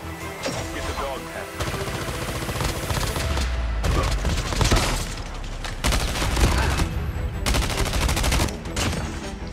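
Rapid gunfire from Call of Duty Mobile, dense bursts of automatic shots and booms fired from several directions, loud and continuous across the clip with no talk over it.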